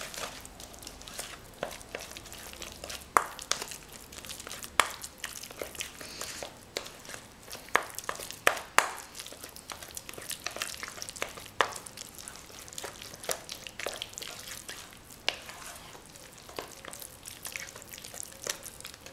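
Infant cereal being stirred into a squash cake batter, a steady wet scraping and clicking of utensil against bowl with frequent small knocks, close and moderately quiet throughout.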